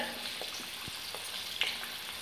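Garlic frying in oil for mango pickle gives a steady close hiss and crackle, with a few soft knocks and pops scattered through.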